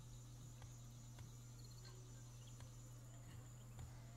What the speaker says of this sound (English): You hear them damn bees? And I mean, them locusts in the background?